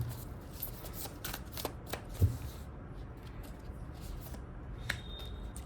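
A deck of tarot cards is shuffled by hand, a close, rapid flutter of riffling cards in quick bursts, then quieter handling and soft taps toward the end, with no talking.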